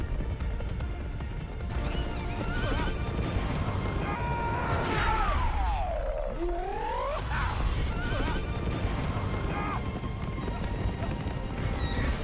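Horses neigh and whinny loudly amid a chaotic battle scene in Abraham Lincoln: Vampire Hunter, with rising and falling cries over continuous roaring noise and hoofbeats throughout.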